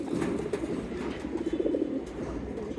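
Domestic pigeons in a home loft, some carrying leg chip tags, give a steady, low cooing murmur that runs continuously for a few seconds with no talking.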